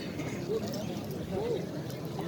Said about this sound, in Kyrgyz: Омский пародасындағы ат.